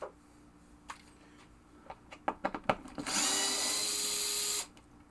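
Cordless power drill backing screws out of a Williams pinball machine cabinet, a few clicks and short taps followed by one loud, sustained high whine lasting over a second, close-up and alone.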